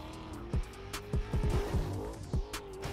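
Cars in the Black Ops 4 video game drive and run players over, with engine roar, repeated tire squeals and skids in quick bursts, close and loud.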